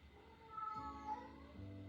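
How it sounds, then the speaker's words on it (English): A cat meows faintly in the background indoors, two or three drawn-out calls in quick succession during a quiet stretching session. "There is a kitty in the background."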